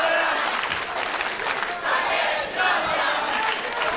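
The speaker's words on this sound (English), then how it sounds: "here goes those all too familiar chants to Bobby Marshall" A large wrestling crowd chants in unison at Bobby Marshall, a rhythmic roar of many voices swelling and falling in repeated waves, loud and sustained throughout with no separate speaker.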